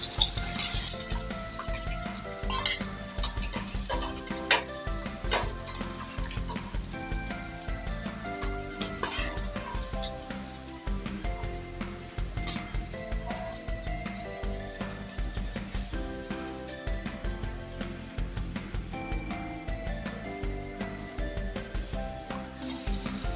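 Lepa fish sizzling hard in a pan of hot oil, a dense, steady, close crackle that runs unbroken for the whole stretch with faint clinks mixed in and no voices.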